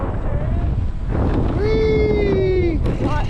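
Heavy wind rushes and buffets against the microphone during a downhill run on a mountain coaster ride, loud and constant, with a voice calling out briefly over the roar.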